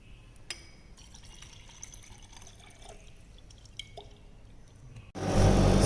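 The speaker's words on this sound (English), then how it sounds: "So now we are filtering the solution with the help of Buchner funnel." Vacuum filtration of a p-bromoacetanilide solution through a Buchner funnel in a lab: soft glassy clinks and faint dripping, then a sudden loud, steady rushing hiss of suction near the end.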